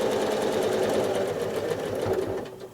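A sewing machine runs steadily for free-motion quilting lines on a basket block, a close, continuous rapid chatter of stitches that slows slightly near the end.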